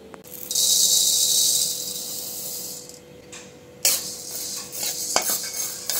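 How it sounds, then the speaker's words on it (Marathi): Sorghum grains being dry-roasted in a pan, with metallic scraping and stirring strokes, a soft hiss of heat and bursts of rattling as grains are tossed, all close up with no talking. "आता आपण ज्वारी भाजू"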